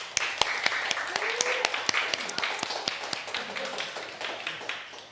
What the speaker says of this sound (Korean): 우리 대표 리더와 임원들을 위해서 우리 박수 한번 부탁합니다